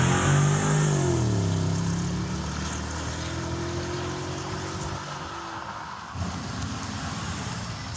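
Engine of a cheap BMW X6 under repair running up close, its humming tone climbing and settling as it revs, then dropping to a steady rumbling idle.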